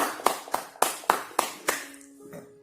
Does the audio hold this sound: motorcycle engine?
no